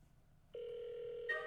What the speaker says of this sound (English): I love that phone call because every time it plays, I feel like I have a phone call